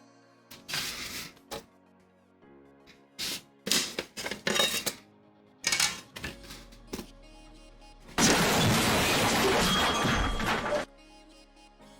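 Glass being worked out of a picture frame, with a series of separate clattering and scraping bursts followed by a sustained loud, harsh noisy stretch near the end.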